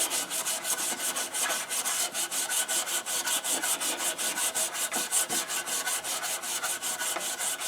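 Rhythmic, steady rasping of abrasive paper on a turning segmented wooden pen blank, worked through grits from 120 to 600; continuous close back-and-forth strokes with no talking.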